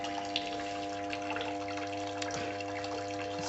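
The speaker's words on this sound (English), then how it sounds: "That's what's causing the beading of the water flow." Water runs from pulsing pump tubing in a steady trickling flow with soft splashes, beside a constant mechanical hum from the pump.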